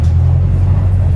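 Volvo B5TL Wright Gemini double-decker bus near West Croydon bus station, its engine giving a steady, loud low rumble throughout with no voices.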